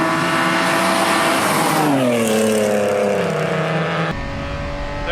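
A 1980s BMW 3 Series pulls hard at full throttle, its engine note climbing steadily then dropping as revs fall near the end, loud and continuous from inside the car.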